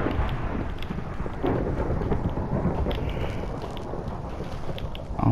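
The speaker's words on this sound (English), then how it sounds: "Oh my gosh, that storm is really loud." A loud, continuous thunderstorm rumbles with steady rain in Minecraft, a broad roar holding for several seconds with a few stronger swells and no speech over it.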